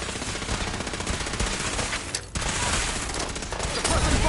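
Dense, sustained automatic gunfire from a firefight in the video game Fallout 4, loud and continuous with rapid overlapping bursts, dipping briefly midway before resuming at full intensity.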